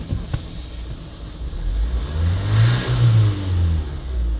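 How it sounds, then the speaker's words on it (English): A van engine with a very blocked DPF runs close by, idling low and then revving up and settling in a couple of smooth swells. "Engine running."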